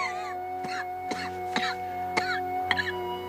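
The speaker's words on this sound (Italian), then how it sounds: "Hai spesso questa tosse?" Several short, harsh coughs sound in a row, fairly close, over a steady humming background tone, in a 1934 film.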